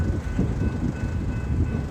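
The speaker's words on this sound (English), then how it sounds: "It's quite a long train here. We've probably got close on 30 carriages, maybe a bit more." Long freight train of about 30 wagons rolling steadily along rural bush track, a continuous loud low rumble of wheels and cars passing close by with no pauses.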